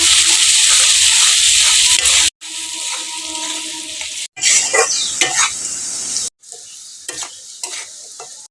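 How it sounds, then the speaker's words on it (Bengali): Potato pieces with salt and turmeric fry in a pan, a loud steady sizzle broken by abrupt cuts, with scraping stirs and clattering of the utensil against the pan between bursts. "আলুটাকে লাল করে ভেজে নেব"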